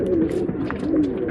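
Sabja male pigeon giving a low, soft cooing murmur, brief and fairly close, with faint background rustle.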